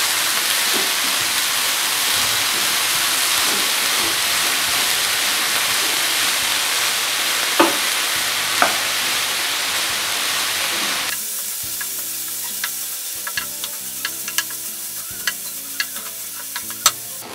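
Banana peel thoran stirred and frying in a pan, a steady sizzle with a spoon scraping through it, then quieter after a cut, with sharp clicks of the spoon against the pan.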